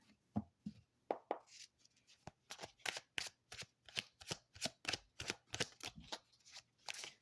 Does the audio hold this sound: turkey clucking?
no